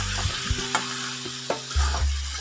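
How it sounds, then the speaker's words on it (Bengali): Spice paste and turmeric with a splash of water sautéed in a pan for a fish curry, with a loud, steady frying sizzle and a few scraping strokes of a spatula, close and alone. "সামান্য একটু মশলা বাটা জল দিয়ে দিলাম। এবার কষিয়ে নেব।"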